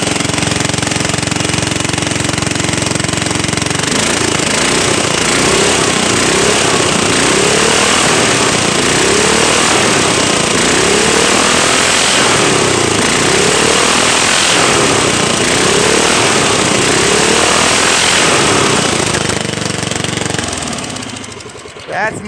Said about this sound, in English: That's my lawnmower and I can't hear now.